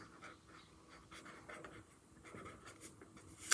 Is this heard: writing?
yes